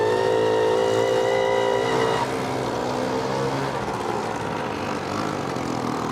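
A Töffli moped's small engine runs on a Swiss tour from Luzern to Meiringen, a steady, close, buzzing drone with a strong, even pitch that drops a little partway through and then holds for several seconds.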